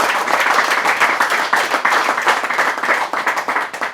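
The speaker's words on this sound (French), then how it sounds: "On s'applaudit tout de suite." An audience applauds at a press conference ahead of a royal gala, with many hands clapping in a lively, uneven patter, loud and near, with no talk over it.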